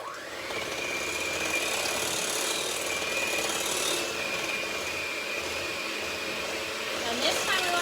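A handheld electric mixer whirs steadily through cookie dough with eggs, a continuous close motor drone with a slight pitch shift, running for nearly eight seconds without talk.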